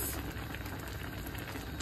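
Water comes to a rolling boil in a pot for hot pot, a steady dense bubbling and churning roar that stays loud and close throughout, with no voices.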